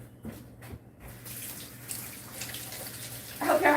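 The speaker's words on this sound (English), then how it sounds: "Let me go rinse my hands off." A kitchen sink tap runs steadily while hands are rinsed, a close watery hiss that grows a little louder with splashing near the end.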